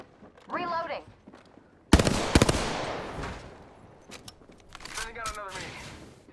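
Rapid bursts of video game gunfire crackle loudly through the middle of a shootout, with a short talking voice before and after the volleys.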